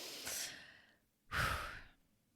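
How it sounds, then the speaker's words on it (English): Two slow, deep breaths close to the microphone, a soft inhale followed by a longer, louder exhale, alone in quiet. "Take a deep breath with me."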